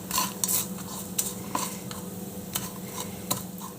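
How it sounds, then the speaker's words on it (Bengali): Cashews frying in ghee in a pan for a payesh, a close steady sizzle broken by sharp scraping and clinking stirs of a metal spoon against the pan. "দেখুন এটা একটু ফ্রাই করে নিই।"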